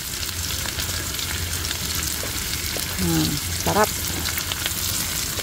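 Meat sautés with onion and garlic for pakbet in a steady, moderate sizzle, and a short spoken word cuts in near the end.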